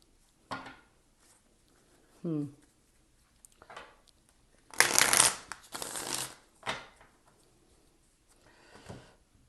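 Tarot cards are handled and shuffled in short bursts, with soft riffling and slapping sounds, the loudest flurry in the middle, interspersed with quiet pauses and faint rustles, close to the listener.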